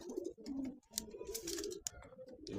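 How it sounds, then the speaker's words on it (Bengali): Pigeons cooing in a dealer's loft, several soft throaty coos in quick succession, close but quiet, with light rustling between calls. "এই যে দর্শক দেখেন, অনেক ভালো ভালো কবুতর আছে আমার কাছে।"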